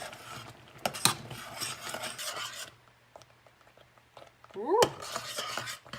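A spoon scrapes and rubs through thick refried bean mix simmering in a pan, close scraping strokes in two bursts separated by a quieter pause, with a brief exclamation from a woman.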